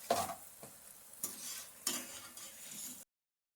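Cauliflower pakoda frying in hot oil gives a steady sizzle with a few stirring scrapes and clinks of a utensil, moderately close, alone without talk, cutting off abruptly near the end.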